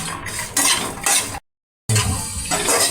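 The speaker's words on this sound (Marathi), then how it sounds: "तीळ पण मस्त असे चडचड उडायला लागले आहेत" Sesame, coconut and peanuts dry-roast in a pan. A spatula stirs and scrapes in loud, close bursts with a faint crackle, and the sound cuts out briefly partway through.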